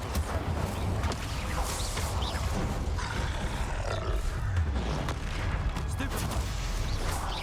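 Incendio fire spells cast repeatedly during combat in Hogwarts Legacy, a dense, continuous roar of loud fiery blasts and booming impacts with no pause throughout.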